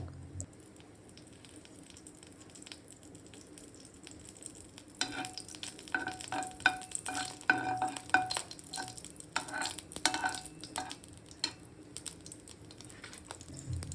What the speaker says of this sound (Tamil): கொஞ்சம் சோம்பு போட்டு அது பொரியணும்